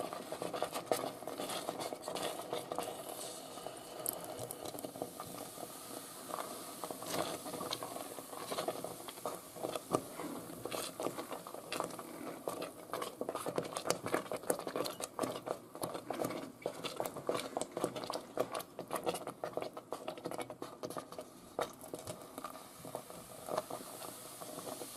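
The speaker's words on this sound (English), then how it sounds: "now that's starting to spit" Coca-Cola ketchup simmering in a pan on high heat, spitting and popping with a steady dense patter of small bursts throughout, moderately close and fairly quiet, with no talking.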